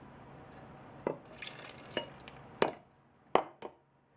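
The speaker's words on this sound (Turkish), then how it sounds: "ve unumuzu da ekleyip e, karıştıralım" Pancake batter of milk, flour, vanilla and baking powder is stirred in a bowl, with several distinct scraping and tapping strokes at irregular intervals against a quiet background, no talking.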